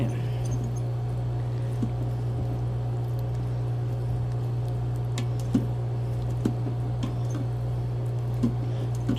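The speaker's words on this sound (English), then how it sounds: "stir this up pretty good" Spaghetti noodles are stirred in an Instant Pot, giving soft, wet squishing and occasional light taps over a constant low appliance hum.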